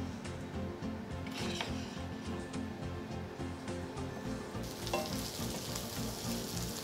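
Cauliflower florets brown in a frying pan, a steady close sizzle with stirring scrapes and a low rhythmic rumble, the hiss swelling louder toward the end.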